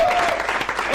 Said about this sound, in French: On est de retour, on applaudit très fort.